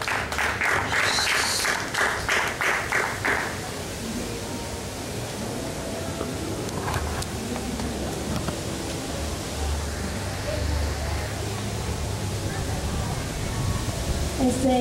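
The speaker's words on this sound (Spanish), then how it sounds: "Un aplauso, por favor." An audience at a poetry reading gives a presenter a round of clapping, loud at first and then fading into a soft, diffuse murmur of room noise and scattered claps.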